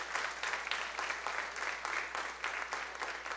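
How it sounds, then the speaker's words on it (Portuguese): A church congregation applauds after a sermon, with sustained dense clapping from many hands at moderate volume, steady and even for a few seconds, with no speech over it. "Você pode aplaudir Jesus por essa palavra."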